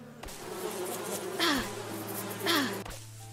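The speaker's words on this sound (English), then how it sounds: "There's a bunch of beehives though." Bees buzz around beehives in the Wild West survival game Above Snakes, with two loud passes near the listener that swell and fall away over a steady low drone. Sharp clicks mark the start and end.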